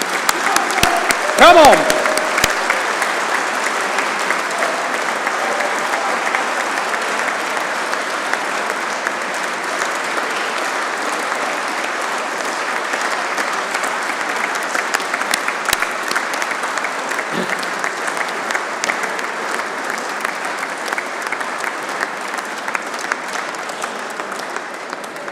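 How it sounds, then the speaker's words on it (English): An audience at a Corps of Royal Engineers awards ceremony applauds loudly and steadily for the whole stretch, a dense wash of clapping with a brief shout near the start. "Please, big round of applause for the two of them."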